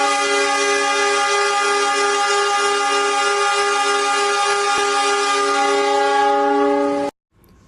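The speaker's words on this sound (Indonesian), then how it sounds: "Suara suling paling kencang menurut Mas Masinis." A very loud locomotive horn blares close by in one long, steady, multi-tone blast lasting about seven seconds, then stops abruptly.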